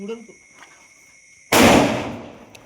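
A Diwali firecracker bursts in one sharp, loud bang that rings and fades over a second, after a stretch of faint voices and a steady insect-like whine outdoors.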